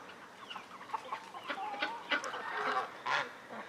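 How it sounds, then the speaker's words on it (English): A full-grown hen tucked beneath a blue tarp outdoors on a crisp morning, among other fowl, gives soft clucks and calls that come in scattered bursts, fairly faint, with a louder squawk near the end. "that's full-grown hen under there."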